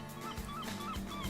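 A Rottweiler in the video game Vampire: The Masquerade - Bloodlines barks and whines in a few short, fairly faint yelps spaced about half a second apart.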